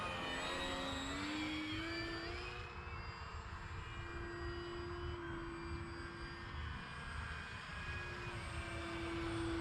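A Cessna 182 RC model plane from HSDJets makes a slow, low pass toward the listener, its steady engine drone holding a sustained tone and loudness throughout with no talking.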